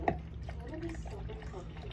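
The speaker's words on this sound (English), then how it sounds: "Actually, we got some water here, so pour this in here." Water is poured over the probe of a Vivosun 4-in-1 pH meter to rinse it between calibrations, a steady close trickle and splash against a low background hum.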